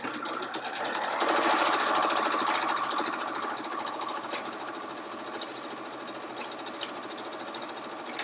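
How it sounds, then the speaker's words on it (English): A sewing machine stitches a 1/4 inch seam in fabric, running with a rapid, steady mechanical whir and needle clatter up close throughout, slightly louder in the first seconds. "I'm going to sew them at a 1/4 inch seam allowance."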